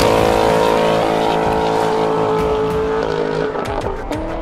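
A 2019 Dodge Challenger R/T Scat Pack Widebody with a Kinney's tunnel ram performance exhaust roars in a loud, deep sustained engine note that rises in pitch, then eases and sputters near the end.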